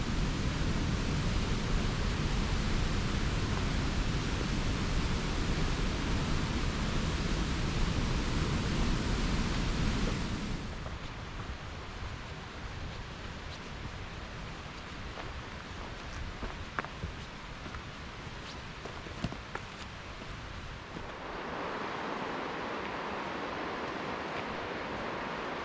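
Rushing creek water streams steadily beside a rocky hiking trail on Mount Rainier, a loud broadband wash that drops to a softer, more distant flow partway through.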